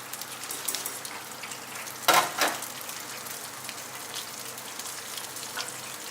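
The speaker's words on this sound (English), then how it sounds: "See how in the deep fryer now the rice is all puffing up" Green rice grains puffing up in a deep fryer, a soft steady crackle of frying with a brief louder burst of sizzle midway, no talking.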